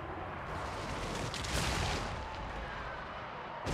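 A continuous roaring blast of dwarf flame cannon fire in Total War: Warhammer 2, loud and dense, swelling in the middle and holding steady for several seconds with no talking.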